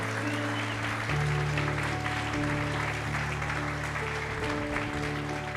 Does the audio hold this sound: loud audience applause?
yes